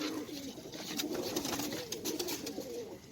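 Pigeons at a pigeon keeper's rooftop loft in Sialkot coo in soft, repeated throaty murmurs, close and continuous over a faint background hum.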